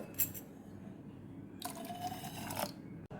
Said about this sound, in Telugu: కొద్దిగా నీళ్ళు పోసి కలుపుకోవాలి